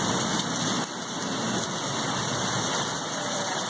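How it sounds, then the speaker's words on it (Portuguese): Steady, dense rain just after a hailstorm ends hisses continuously, a broad even wash of sound with no voices, holding constant throughout. "Agora as pedras pararam, tá só chuva mesmo"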